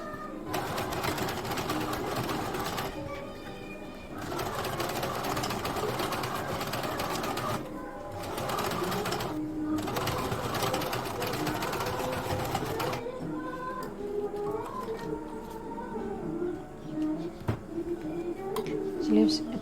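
A sewing machine double-stitches the sleeve seam of a princess-cut deep-neck blouse, running in steady bursts with short pauses between them, then slowing into softer, intermittent stitching. Its whir sits close and fairly loud, with background chatter and birds faintly present.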